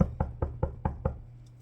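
Six quick, evenly spaced knocks on a car door or window in the middle of the night, sharp and close, each with a short thud, followed by quiet.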